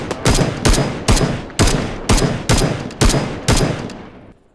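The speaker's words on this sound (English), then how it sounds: "You shot them." Gunfire in the military shooter Arma 3: eight loud, close shots at a steady rhythm about half a second apart, each with a rolling echo tail that fades after the last round.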